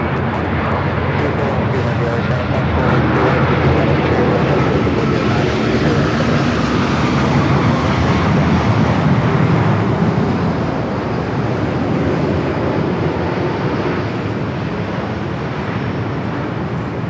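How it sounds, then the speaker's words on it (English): A Japan Airlines Boeing Dreamliner arrives at Los Angeles International Airport from Osaka, its engines producing a loud, steady, broadband roar that holds throughout with only slight swells in level. "up next, Japan and Dreamliner coming in from Osaka,"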